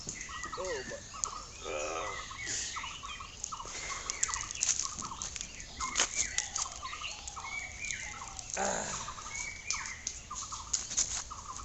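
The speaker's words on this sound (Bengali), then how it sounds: "এগুলো সবই বালি হাঁস।" A flock of lesser whistling ducks gives repeated high whistling calls at close to moderate range, overlapping in quick bursts with occasional voices in the background.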